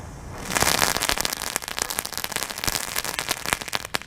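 Gray Dragon consumer firework going off outdoors: a dense, sustained run of sharp crackles and pops for several seconds, loud and close, with bright hissing bursts throughout.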